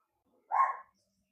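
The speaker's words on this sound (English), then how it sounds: "What is he barking at?" A single short dog bark, close and fairly loud, standing alone against silence.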